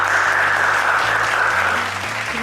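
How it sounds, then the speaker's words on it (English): A school audience of Huskies claps in a brief, loud, steady burst over a low electrical hum. "Please give a round of applause, Huskies."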